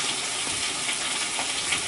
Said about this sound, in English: we're going to pop both of these in here and start browning them